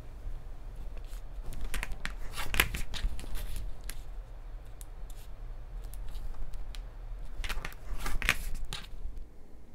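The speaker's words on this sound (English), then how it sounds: "Now I've trimmed one side of the bow and I'm trimming the other side." Scissors trim the sides of a fabric bow for a Christmas presents quilt block, giving close, crisp snipping in irregular bursts with quiet pauses between cuts, no talking.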